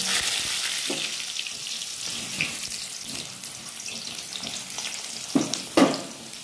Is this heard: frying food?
yes